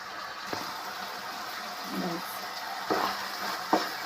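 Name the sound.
frying in a pan for tomato gojju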